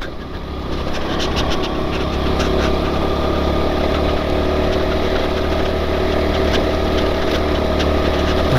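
A Honda Pop 110 motorcycle engine drones steadily while riding along a rural road near cattle, a continuous loud hum with wind noise and no break.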